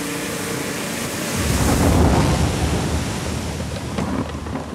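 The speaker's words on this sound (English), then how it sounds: "Water coming." Water waves rush and surge in a loud, continuous roar, swelling in the middle, as a boat shipwreck scene is filmed on a Hawaii set with gallons of water, mixed with wind noise.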